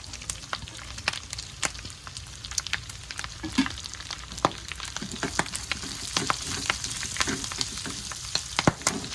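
Aromatics sizzle and crackle in hot cooking oil for pork dinuguan, a steady dense frying hiss with sharp pops and occasional stirring scrapes, close up and with no voices.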